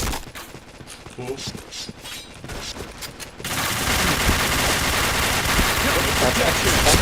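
Gunfire in a shooter video game: voices chatter over lighter clatter, then a dense, loud, continuous roar of shots fills the second half, with talk still going on.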